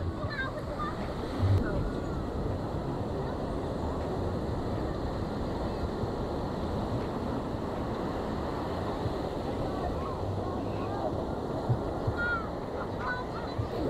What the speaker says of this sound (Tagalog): Ang lalaki ng waves, guys.